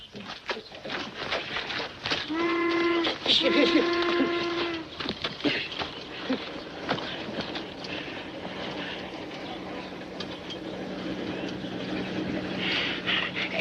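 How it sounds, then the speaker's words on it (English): A steam mail train in a 1940 Western film gives a loud two-blast whistle, followed by a low, steady rumble of the train under faint background sound. "Federal offense, stopping a mail train."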